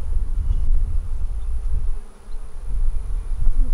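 Hybrid Italian honey bees buzz around an open hive, a dense, close, continuous hum with no voices over it.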